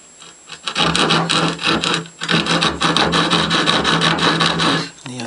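A handsaw cuts through wood along the outside of a marked line, square to the edge for a tabletop build, giving a steady rasping back-and-forth of strokes, loud and close, with a short pause midway.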